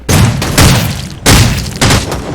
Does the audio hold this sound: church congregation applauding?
no